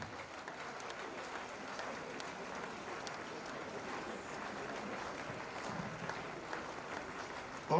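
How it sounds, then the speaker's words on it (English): Steady applause from an audience fills an induction ceremony hall, continuous and fairly even throughout, with no clear voices over it. "Keep clapping. Don't stop."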